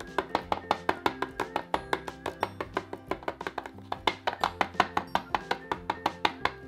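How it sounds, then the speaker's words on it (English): A knife dicing purple onions rapidly on a cutting board, dozens of quick, evenly spaced taps in a steady rhythm, close and clear with no talking. "let's dice some onions"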